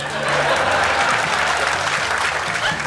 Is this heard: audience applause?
yes